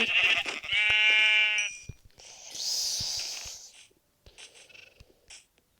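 A high, wavering sheep bleat in Minecraft rings out loud and clear, followed by quieter rustling and a few soft, scattered clicks.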